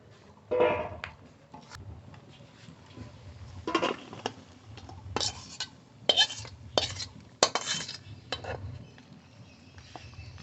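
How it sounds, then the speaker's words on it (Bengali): Jujube pickle cooked with jaggery being scraped and spooned from a pan into a dry bowl, a series of irregular metallic clinks and scrapes of utensil against cookware. "আচার তৈরি হয়ে গেছে এবার নামিয়ে নেব শুকনো গামলায় নামাবো"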